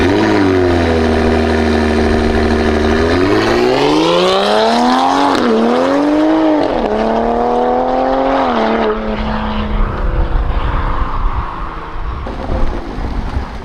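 A Toyota Supra fitted with a drag pack launches from a standstill, its engine note climbing and falling through loud revs before easing off toward the end, with no talk over it.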